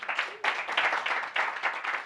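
A small audience at an end-of-year meet-and-greet cocktail event claps in short, uneven bursts of applause, close and moderately loud, with brief gaps between the rounds.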